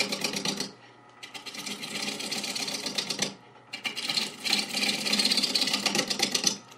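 A wood lathe turns a bowl blank as a gouge cuts into the out-of-round wood, bursts of rough scraping and rasping broken by short pauses, close and fairly loud with no talking.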